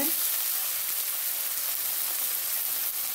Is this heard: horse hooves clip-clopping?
no